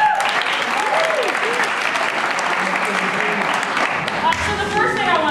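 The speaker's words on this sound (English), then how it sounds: "please give another round of applause" Theatre audience applauding after a performance, dense sustained clapping from a large crowd throughout, loud and close, with a voice speaking over it.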